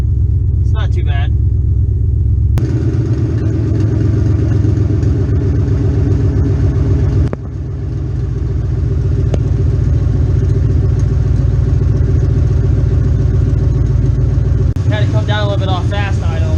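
Open long-tube headers on a Mustang GT 4.6 V8 give a loud, close idle, a continuous throaty rumble broken by a couple of abrupt shifts in level, with a person speaking briefly at the start and near the end.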